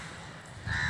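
Crows cawing from trees along a morning walking route in Lucknow, a single harsh call rising clearly toward the end over faint outdoor background.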